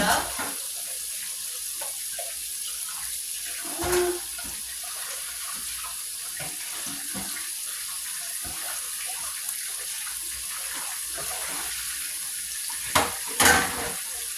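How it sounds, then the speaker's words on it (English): Kitchen tap water runs steadily into a sink while pots and pans are washed, a soft continuous hiss with occasional clinks and clatter of cookware near the start and end. "I'm going to wash the pots and pans first."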